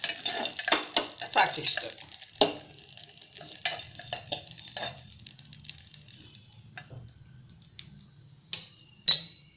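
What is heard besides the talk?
cumin seeds crackling in hot oil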